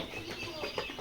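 Fayoumi (Egyptian) chickens at a poultry sale give a few faint, soft clucks and chirps close by, in a short, quiet stretch.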